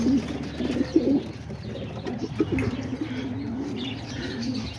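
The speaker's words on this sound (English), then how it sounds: "Just the pigeons out here, they already landed back on the floor." Homing and roller pigeons coo near the microphone in overlapping low, burbling calls, with an occasional soft flutter of wings, set against steady outdoor ambience and no talking.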